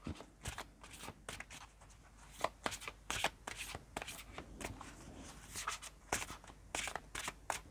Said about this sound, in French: je vais prendre une carte de ce jeu et je vais rajouter des cartes du tarot